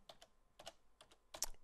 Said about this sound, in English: It's as easy as typing